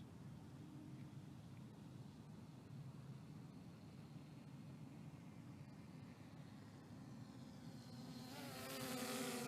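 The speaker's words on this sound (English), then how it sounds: "Yep, the brushless motor sound." Brushless motor of a Bugs B2C RC car whining steadily through a speed pass, a continuous buzzy drone that swells louder and brighter near the end as it passes close.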